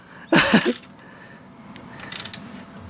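A ratchet tightens the footpeg bracket bolt on a Sur Ron Light Bee electric dirt bike, giving two short, close bursts of quick clicking separated by a quiet pause.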